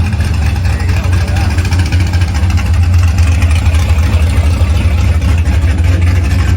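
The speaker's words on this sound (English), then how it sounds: "All right, fire it up. Let's give a listen." A tuned square body sand truck engine with a stage 4 cam runs close and loud, with a deep, steady, lumpy idle rumble that continues throughout.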